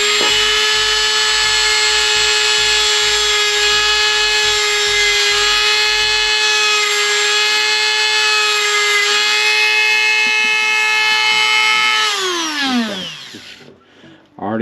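A power tool with a rough-grit sanding attachment whines loudly and steadily at high speed while working on a 1970 Pontiac Firebird, then spins down and fades near the end.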